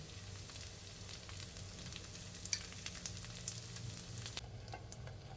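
Ghee sizzles quietly in an appe pan as fasting appe fry, a soft, continuous crackle with faint light clicks and no talking.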